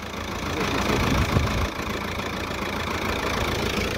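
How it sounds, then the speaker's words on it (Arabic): A car engine runs steadily with an even, rough rumble while its headlight is being adjusted, the vibration carrying on without break and no voices over it. "شوف الموتور تا هو كيشطح"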